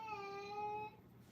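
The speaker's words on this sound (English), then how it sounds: "Cat sounds possessed." Cat meowing, a single faint, drawn-out tonal meow lasting about a second, distant and quiet.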